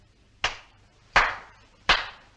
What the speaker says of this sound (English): I clap my hands 3 times